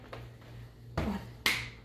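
A hand hits a Ziploc bag and claps in a PE game, three separate sharp slaps and claps spaced about half a second apart, close and crisp with quiet between them.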